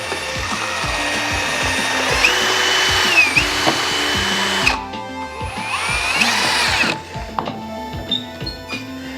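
A power drill whirs steadily with a rhythmic churning thud as it mixes thick homemade slime or fake blood in a bowl, the motor pitch shifting as speed changes.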